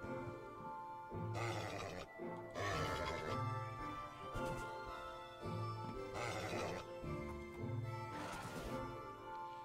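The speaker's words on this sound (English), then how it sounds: "Horse. I'm going to ride you." Horse in a video game giving repeated loud neighs and whinnies in rhythmic bursts over a layered game music and ambience bed, no talking.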